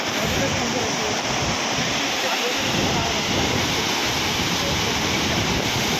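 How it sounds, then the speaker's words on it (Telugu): A loud, constant roar of falling water at Tarabu waterfalls near the Odisha border, dense and unchanging throughout, like standing close to a waterfall. "చూడండి వాటర్ ఫాల్స్ అయితే నెక్స్ట్ లెవెల్ అండి"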